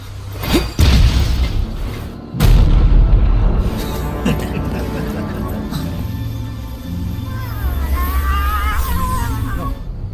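A loud boom erupts in an animated fantasy series, followed by a second heavy blast with rumbling debris and dramatic background music; voices speak intermittently between the explosions.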